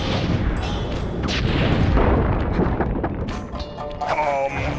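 In the Sly 3 video game, a fighting move sets off a rapid run of firework-like booms, cracks and whooshes in the thick of combat, with some game voices mixed in.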